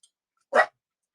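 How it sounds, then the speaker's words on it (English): A dog gives a single sharp bark indoors, loud and close, with silence around it. "nobody likes a barking dog"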